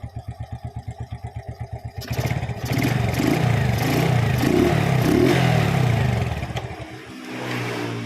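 A motorcycle engine, just fitted with a repaired starter, turns over in quick rhythmic chugs, then catches and runs with a loud, close, uneven idle and brief revving before dipping and settling again.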